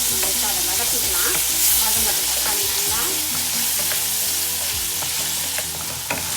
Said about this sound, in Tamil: தக்காளியெல்லாம் நல்லா வதங்குற அளவுக்கு நம்ம அதை வதக்கிக்கலாம்.